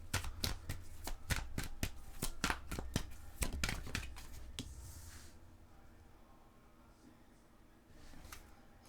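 Tarot cards being shuffled, a rapid run of crisp riffling snaps for about five seconds, then fading into quieter soft handling as a card is drawn.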